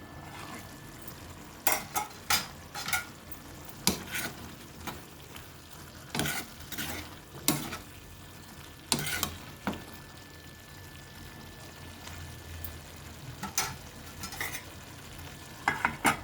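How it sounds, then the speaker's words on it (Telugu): Potato and meal maker curry simmering in a pan on a low flame, with soft continuous sizzling and bubbling broken by several brief clinks and stirring scrapes of a utensil against the pot. "స్టవ్ సిమ్లోనే ఉంచి 1 నిమిషం మగ్గనిద్దామండి."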